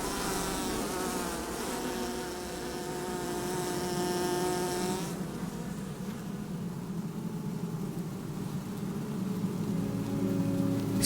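Honey bees swarm inside a hive built in a hollow fruit tree, producing a steady, droning hum with strong tonal buzzing that thins out midway into a softer, diffuse murmur.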